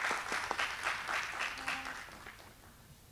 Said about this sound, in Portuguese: queria então uma salva de palmas.